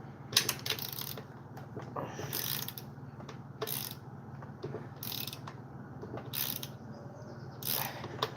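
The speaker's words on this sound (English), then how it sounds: "we're going to take out this screw here because it'll give us a little bit more room to work with the wrench" A wrench works a screw out of a chainsaw's top handle during a restoration, giving soft metallic clicks and ratcheting rattles over a low steady background hum.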